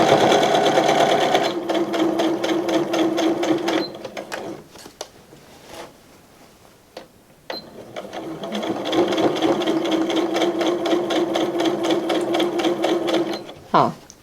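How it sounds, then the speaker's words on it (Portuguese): A sewing machine stitches a custom bag in fast, even mechanical bursts, running steadily, pausing in the middle with a few clicks, then starting up again close to the microphone. Someone speaks over part of it. "Eu quero ir meu pé de máquina e começo a minha costura fazendo a penúltima costura da minha bolsa"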